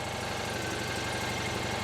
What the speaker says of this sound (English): I've changed the roof and now the engine starts